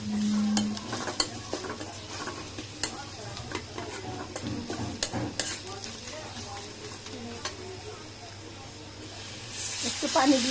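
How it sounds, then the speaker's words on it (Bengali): Onions fried with turmeric are stirred in a pan, a soft sizzle with repeated scraping strokes of a spoon close by, ending in a louder hiss. "এখন হলুদটা পেঁয়াজটার সাথে ভালো করে মিশাই নিব।"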